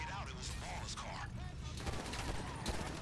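Rapid bursts of gunfire in the video game GTA Online during a gang war crackle in the background, muffled and fairly distant, with brief voices heard over the shots.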